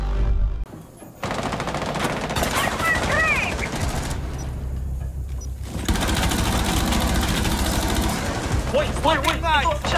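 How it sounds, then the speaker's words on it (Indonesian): Repeated bursts of rapid automatic gunfire in the video game Rainbow Six Siege, loud and close. Chirping in-game effects and players' voices are heard between the bursts. "itu siapa itu yang nembakin sledge-nya itu?"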